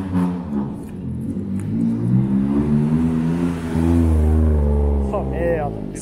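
A race car on a street in Osaka at night revs its engine in rising, surging pulses, loud and close, while someone talks over it throughout.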